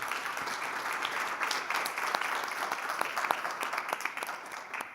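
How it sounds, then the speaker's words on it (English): A conference audience applauding a speaker at a session on active labour market programmes, steady dense clapping from many people with a few sharper individual claps standing out, fairly close and loud. "Can we give her a round of applause?"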